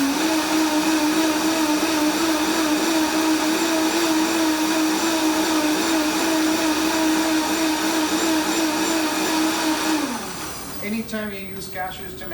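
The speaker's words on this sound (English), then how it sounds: "I always like to let the blender go quite a bit" A blender runs at high speed for a long stretch, whirring cashews that were briefly cooked into a creamy sauce, steady and loud before it winds down and cuts off near the end, leaving some faint clatter.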